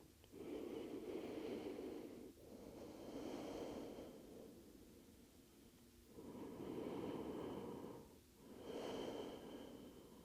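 Slow, deep breathing during a yoga hamstring stretch, with long, airy inhales and exhales in a steady rhythm of about four breaths, close to the microphone and quiet.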